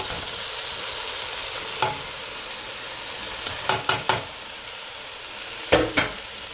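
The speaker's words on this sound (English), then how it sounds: "And now those washed brown lentils, we're going to throw them right into the pot." Washed brown lentils go into a pot of frying vegetables for lentil lasagna, with a steady soft sizzle broken by a few quick spoon clinks and stirring scrapes, close and moderately quiet, no talking.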